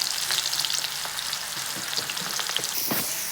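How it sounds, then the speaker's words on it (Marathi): Onions sizzle and crackle steadily in hot oil with cumin in a pan, with occasional stirring scrapes, close and continuous, for dhaba-style chole. "कांदा छान असा मस्त भाजून घेऊयात"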